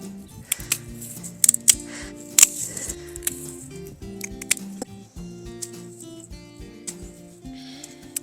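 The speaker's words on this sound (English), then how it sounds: "But we have a lot of dead that needs to be cut out of this." Pruning shears snip dead growth out of a spring container planter, sharp close clicks and cuts repeating irregularly over a steady background of soft tonal hum.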